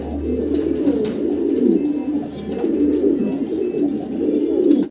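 Pigeons coo continuously at close range, their low rolling calls repeating in steady waves over faint background noise.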